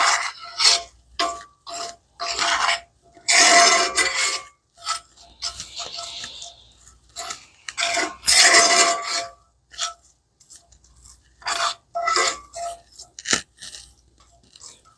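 Butter and flour gravy stirred in a pan for a white gravy, giving repeated scraping and rubbing strokes of the spoon against the pan in an uneven rhythm, close and fairly loud, with no talking.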